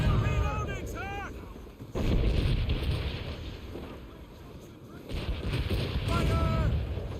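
Ship cannons boom in an Assassin's Creed naval battle, with two heavy blasts rolling out over wind and sea noise. Shouted crew voices come before and after the shots.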